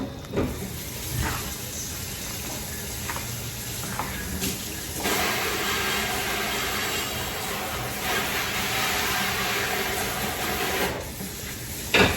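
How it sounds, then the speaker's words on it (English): Tap water runs steadily into a kitchen sink as a cutting board is rinsed off, a continuous hissing wash with brief clatters and shifts in the stream, fairly close and with no talking. "So I'm gonna rinse my cutting board off."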